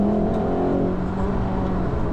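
Car on a trackday lap of the Nürburgring Nordschleife, engine droning steadily from inside the cabin with a rising tone as throttle comes on, continuous and fairly loud with no talking.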